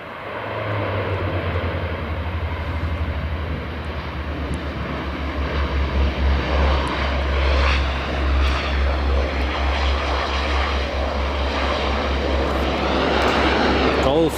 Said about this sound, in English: Saab just landing.